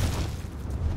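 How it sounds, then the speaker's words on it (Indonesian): Deep booming explosions rumble in the survival game Ark Primal, a low continuous roar with a couple of heavier thumps, moderately loud with no talk over it. "Ada meledak-meledak sebelah sana"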